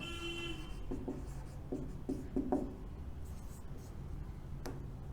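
A marker taps and scratches on a board as Java code is written, in a few short strokes and clicks, faint and close over a low steady room hum.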